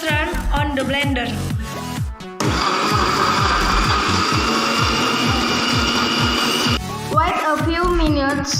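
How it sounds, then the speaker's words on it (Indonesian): A blender runs loudly for several seconds as it purées sliced mango with sugar and butter into juice, a dense grinding whir that starts and stops abruptly, with music playing before and after. "Next, run on the blender."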